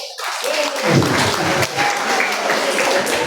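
Worship-service congregation clapping together in a church hall, a dense, loud burst that starts abruptly and carries steadily to the end, with a faint tone lingering underneath.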